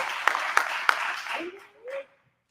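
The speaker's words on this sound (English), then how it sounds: "big applause for Joseph doing his victory walk." A burst of audience applause at a fiction awards event, a dense wash of clapping with a few sharp louder claps standing out, fading after about a second and a half as a voice speaks briefly.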